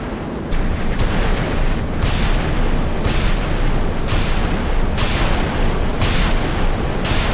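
Repeated SM-2 missile launches from a warship in the naval combat game Sea Power: a loud, dense, continuous roar with regular surging bursts about every second, with no talk over it.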